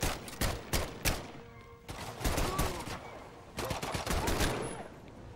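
Gunfire in the Medal of Honor: Above and Beyond VR video game: sharp shots come in quick clusters with short gaps, close and loud, and a voice is heard between the bursts.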